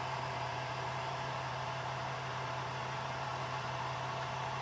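A 2002 Chevy Malibu engine idles with an even, steady drone beneath broad hiss, constant in level and without a break.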